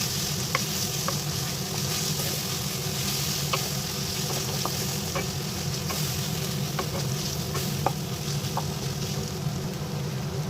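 Ginger and garlic frying with onions in hot oil give a steady, loud sizzle throughout, with faint scraping ticks of stirring now and then.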